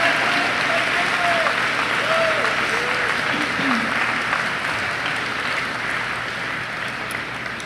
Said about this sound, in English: Please give a round of applause to our marine chemistry students.